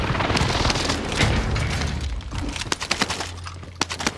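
A smoke bomb goes off in a multiplayer shooter game, with a loud, dense burst of noise that fades over a few seconds into scattered sharp pops and clicks.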